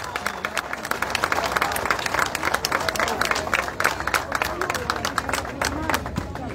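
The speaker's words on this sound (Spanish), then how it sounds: "A ver el aplauso, a ver ese aplauso." Lively crowd applause at an outdoor award ceremony for a stage of the Vuelta Ciclista del Uruguay cycling race, dense continuous clapping with crowd murmur underneath, close and loud throughout.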